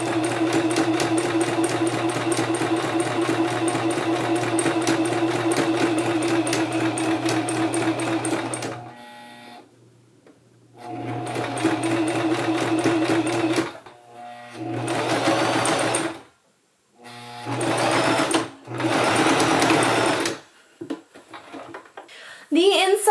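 Sewing machine stitching an elastic-casing skirt hem close to the fabric edge, a loud steady motor whir running in long bursts with short pauses, then choppier starts and stops toward the end.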